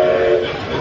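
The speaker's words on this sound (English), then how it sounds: "The train goes beep, beep, y'all." A ride-on train's horn beeps loud and close in a restaurant, a short steady tone that trails off quickly.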